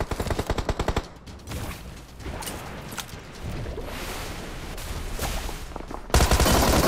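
A Tommy gun in BGMI rattles off a fast, evenly pulsed burst, then more scattered gunfire crackles at mid distance, and a dense, loud volley breaks out at the end.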